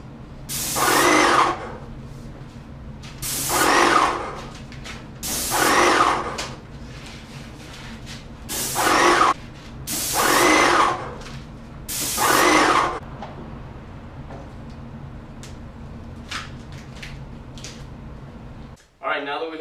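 Paint sprayer hissing onto the fronts of white-painted oak kitchen cabinets in six loud bursts of about a second or two each, separated by short pauses, then quiet.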